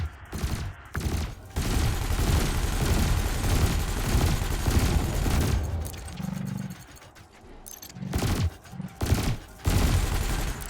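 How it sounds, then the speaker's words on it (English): Ship weapons fire in Elite Dangerous, with cannon and laser bursts forming dense loud barrages broken by short gaps and a brief tonal pulse midway. "Meanwhile, your laser will fire until the capacitor is depleted, at which point it will need to recharge."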